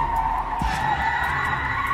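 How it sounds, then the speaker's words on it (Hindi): A car skids and scrapes along the ground, sliding to one side before stopping, a loud sustained grinding screech with rumbling underneath, staged as a horror story sound effect. "मैंने जब गाड़ी रोकी तो वो जमीन से खरचते खरचते एक साइड पर रुक गई।"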